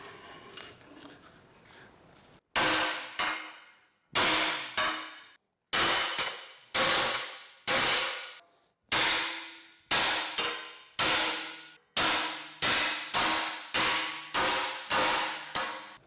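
Heavy hammer blows on a bent steel flotation spring from a Hesston hay mower, clamped to a table, ring out as loud metallic clangs, about a dozen strikes in steady bursts with brief pauses between them.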